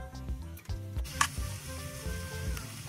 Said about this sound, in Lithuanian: Sudedam grybukus ir svogūną ir lengvai atkepinėsim.